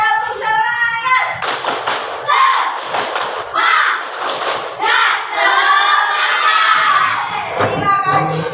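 A class of schoolchildren standing in an Indonesian classroom performs a rhythmic spirit clap, bursts of hand claps and thumps mixed with shouted chants and a teacher's voice, loud and close.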